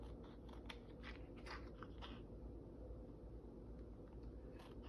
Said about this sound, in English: I'm just cutting out 2 by 2 squares